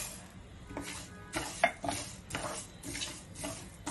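Cumin, fennel, urad dal and black pepper dry roasting in a pan, with a spoon scraping and stirring in soft repeated strokes and faint grains rattling, close and quiet.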